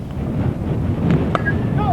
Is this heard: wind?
yes